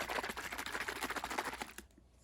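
A spray bottle of non-toxic cleaner is shaken briskly before being sprayed on a knife blade, a fast rattling burst of about a dozen regular strokes close by, then stopping abruptly into quiet.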